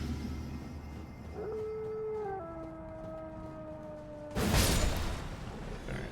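A dog in the snowy video game Elden Ring lets out a long, rising and falling howl, followed by a sudden loud burst of noise as the pack closes in, with game sounds underneath.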